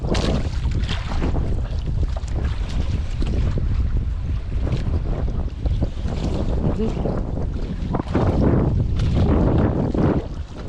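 Steady engine drone of a motorized bangka boat running on open water while out fishing, loud and continuous, with wind buffeting the microphone and splashing waves throughout.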